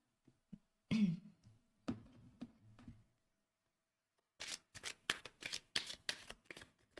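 Tarot cards being shuffled close up and quietly, a few scattered soft handling sounds and then a quick run of crisp riffling bursts.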